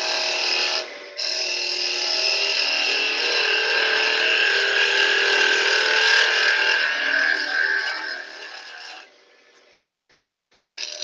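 Roughing gouge cutting a spinning wooden workpiece on a lathe, held at an angle with the bevel riding for a clean cut: a steady, loud rasping shear lasting about nine seconds, briefly broken near the start, then stopping into near silence.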